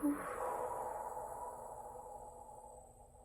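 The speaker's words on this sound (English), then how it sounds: "Let's take a nice deep breath on that." A single slow, deep breath, drawn in and let out softly over about three seconds, close and quiet with a faint steady hum behind it.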